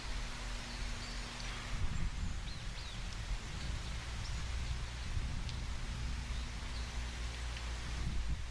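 Soft, steady rain patter and hiss fill the background of an analog horror piece, layered with a low droning hum and faint scattered ticks, continuous throughout with no speech.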